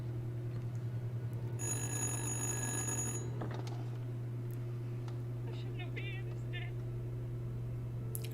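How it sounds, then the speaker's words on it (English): An old telephone ringing in the video game Little Hope, a single bright metallic bell burst lasting over a second against a constant low electrical hum, followed by faint scattered sounds and a soft voice. "It's a phone call."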